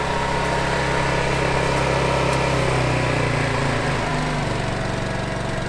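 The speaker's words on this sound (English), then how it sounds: "I'm gonna go switch it over to eco mode and it'll idle down" A dual fuel generator running steady and loud, its engine note dropping lower partway through as it idles down in eco mode while powering an inverter charging batteries in a truck camper.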